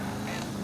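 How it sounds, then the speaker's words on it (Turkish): Car horn blaring in GTA 5 on Xbox One: one continuous, steady honk held for the whole moment, loud and close, with a nasal, goose-like tone. "korna çalıyorum"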